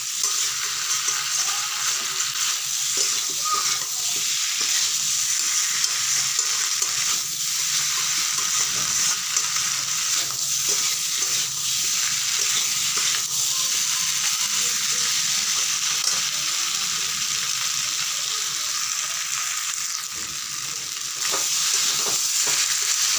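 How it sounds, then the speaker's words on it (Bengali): Potatoes coated with spices are stirred in a hot frying pan, giving a steady close sizzle with repeated scraping strokes of the spoon throughout. "আলুর সঙ্গে মশলাগুলোকে ভালো করে মাখিয়ে দিতে হবে, নাড়াচাড়া করতে হবে ভালো মতো"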